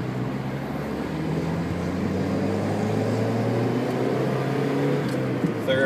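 Mazda MX-5 Miata engine fitted with a hand clutch, a steady close drone with smoothly rising tones as the car pulls through a turn and shifts up into second gear, heard alone without talk.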